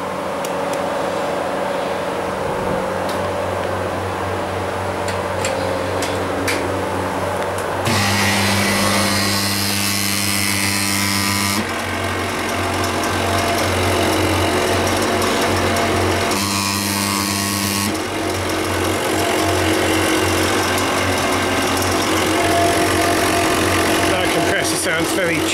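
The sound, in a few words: failing fan making a horrible noise when plugged in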